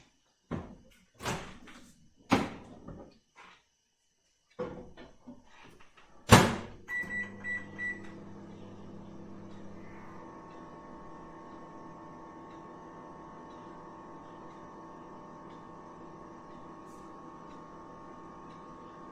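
A home microwave oven, rated 850 watts, is set up with several clunks and beeps, its door slamming shut once, then the oven starts and runs with a steady low hum and whir that continues alone to the end.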